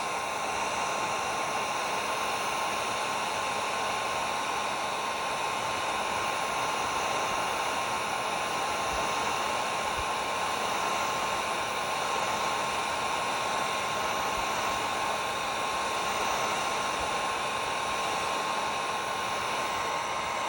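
A heat gun runs steadily on high heat against a deformed Toyota Camry bumper during a wrinkle repair, a continuous close airy roar with a faint whine lasting throughout, with no talking.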